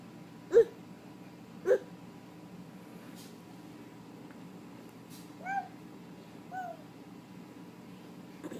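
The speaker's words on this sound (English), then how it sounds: "Cat." A cat gives two faint, short meows in a quiet room, preceded by a couple of sharp clicks. No voices are heard.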